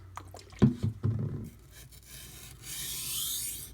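A Karaku Aogami #1 bunka knife, 165 mm, is drawn back and forth over a sharpening stone in a few quick, soft rasping strokes, followed by a quiet steady hiss.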